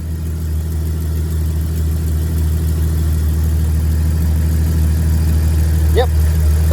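A Jeep's engine idles after a bearing repair, a loud, steady low rumble running throughout, with a brief squeak near the end.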